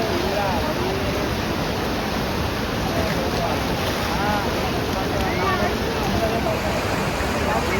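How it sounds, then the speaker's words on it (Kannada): Water released through the open gates of KRS dam crashes against rocks in a loud, unbroken roar, with wind buffeting the microphone throughout. "ಅಲ್ಲಿ ನೀರು ಹೊಡಿಯೋದು ಬಂಡೆಗೆ ಕಲ್ಲಿಗೆ"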